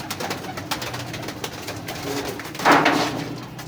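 Pigeons cooing in a breeder's loft of big-breed birds, soft repeated coos near at hand over a steady murmur of background noise, with one louder burst of calls toward the end.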